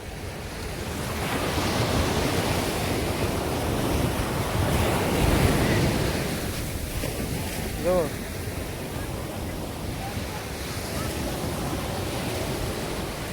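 Surf rolls in steadily at Miramar Beach, Goa, a broad continuous roar of breaking and washing water mixed with gusty wind buffeting the microphone, while a voice speaks briefly over it.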